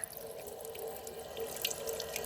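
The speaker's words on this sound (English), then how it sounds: "I can hear the water entering this valve right here." Rainwater from a gutter trickles and splashes through a valve into a collection tank, a steady, fairly quiet flow with faint drips and no talking.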